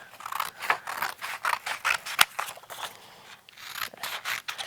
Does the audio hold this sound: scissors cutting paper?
yes